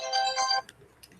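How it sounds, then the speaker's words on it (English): A mobile phone rings with an incoming call, a bright electronic ringtone melody that plays for about half a second and then cuts off, leaving faint room noise. "Oh, that's my phone."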